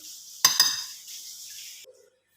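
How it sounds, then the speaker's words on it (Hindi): Spices being mixed into minced meat for Bihari qeema in a bowl, heard as two quick clinks of a utensil against the dish followed by a softer scraping stir that fades into silence. "अब इसे अच्छे से मैं मिक्स करती हूँ।"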